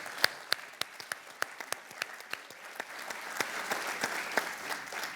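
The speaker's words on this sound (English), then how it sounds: "So give yourselves all a round of applause." Applause from a modest group at a Columbus Metropolitan Club CEO celebration, with a few sharp individual claps standing out over a steady patter that gradually builds.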